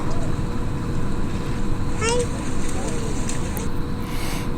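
A boat motor drones steadily nearby on a river, a low continuous rumble with water noise and faint voices mixed in.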